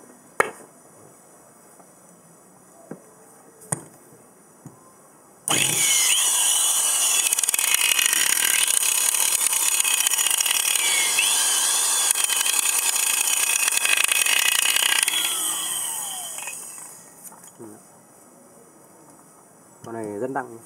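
A Japanese domestic 100V handheld power tool, about 5 kg, whirs loudly at full speed for roughly ten seconds, then winds down, with someone talking quietly before and after the run.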